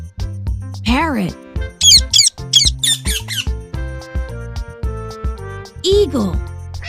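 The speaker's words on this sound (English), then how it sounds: "parrot," A parrot squawks in a quick run of harsh, shrill cries, loud and close, riding over bouncy background music.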